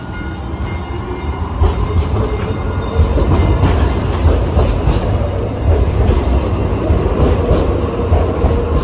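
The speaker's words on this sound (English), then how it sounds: "we decided to try the light rail again" A Baltimore light rail train rumbles along the tracks with a loud, steady low roar and rhythmic clicking of wheels over rail joints, growing slightly louder partway through.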